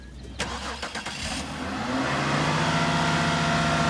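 A 400-horsepower truck engine with 110K miles cranks over with a few quick starter bursts, then catches and settles into a loud, steady idle as it warms up, heard close up and alone.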